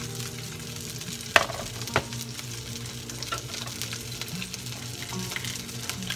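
Dorado fillets fry in a pan beside quinoa, a steady low sizzle with faint crackle and a couple of sharp pops early on, close and alone with no voices.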